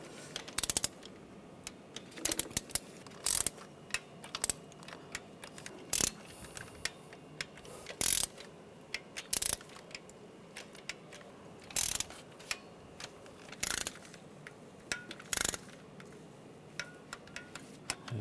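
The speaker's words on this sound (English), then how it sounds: "we're going to torque these to 53 inch-pounds" Torque wrench clicking and ratcheting as valve cover bolts are tightened to spec on a 1996-2002 Toyota 4Runner engine, a series of sharp, close mechanical clicks spaced irregularly, some in quick bursts, with quiet gaps between.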